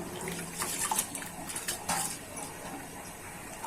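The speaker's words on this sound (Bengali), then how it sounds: "এখন দুধের মধ্যে এই চাউলটা, পোলাও চাউলটা পরিষ্কার করে ধুয়ে নিচ্ছি" Polao rice is washed by hand in a pot of liquid before cooking rice pudding with carrot, giving close sloshing and splashing with brief clinks, in a steady wet churn.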